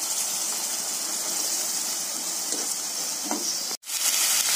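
Masala paste and curry leaves frying in hot oil for mutton curry, a steady close-up sizzle and crackle that holds throughout, broken by a brief sharp dropout near the end.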